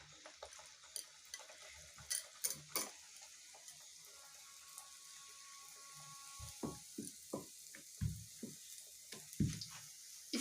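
Spinach puri dough sizzles faintly in hot refined oil, with soft crackling and scattered small pops and taps over a quiet, low background.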